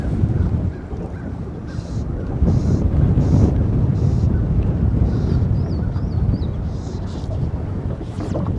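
Heavy wind rumbles across the microphone in a continuous low roar, with faint distant bird calls and brief sounds breaking through.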